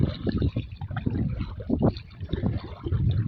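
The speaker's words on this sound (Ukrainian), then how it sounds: "Весляр справно веслує." Splashing water with gentle dips and trickles as oars pull a small rowboat upstream against a river current, steady and close.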